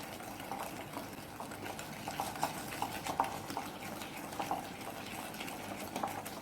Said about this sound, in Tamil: நம்ம இந்த காஃபி பவுடர் வந்து நல்லா மிக்ஸ் ஆகிற வரைக்கும் நல்லா நம்ம மிக்ஸ் பண்ணிக்கணும்